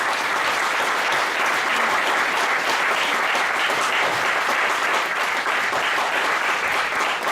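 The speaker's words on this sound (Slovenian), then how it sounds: "Jaz predlagam, da ji damo še en aplavz, če se strinjate." Dense, sustained applause fills a hall at a regional members' gathering in Domžale, loud and unbroken for several seconds, with many hands clapping at once and no talk on top.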